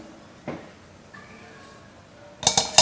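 A lid set onto a pot of cooking sprouted mung and moth beans gives a short metallic clatter and clink near the end, preceded by a faint knock and light kitchen handling sounds.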